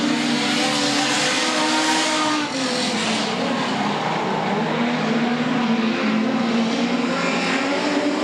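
Production sedan race cars power out of turn 4 and down the front straightaway of a racetrack, their engines blending into a loud, continuous roar that holds steady throughout.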